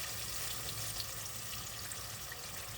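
Chicken pieces browning in a pan for lemon chicken with angel hair pasta give off a constant, fairly quiet sizzle with a broad hiss and no talk.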